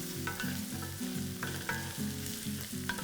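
Onions and curry leaves sizzle and fry steadily in a pan for a South Indian chicken masala, with a repeating rhythmic stirring scrape over the close, continuous crackle and no talking.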